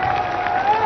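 A crowd claps in a dense, continuous burst to welcome the chief minister at a public inauguration of the Saryu canal project, loud and close but lasting under a second.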